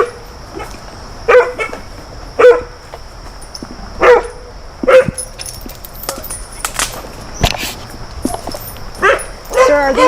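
Several dogs bark in repeated loud, close bursts with yips and whimpers in between, while people talk over and between the barks.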